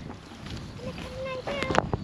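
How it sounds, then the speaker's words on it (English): Wind buffets a microphone outdoors, a rumbling gusty noise with brief voices and bird-like chirps heard over it. "It's a little bit windy."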